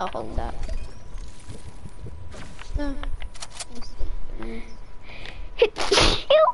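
A person sneezes loudly and close by near the end, set among casual conversation and small handling noises.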